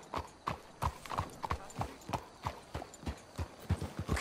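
Horses walk in Red Dead Redemption 2 with a steady, even clip-clop of hooves. The footfalls are close but fairly soft and come several per second, with no talking over them.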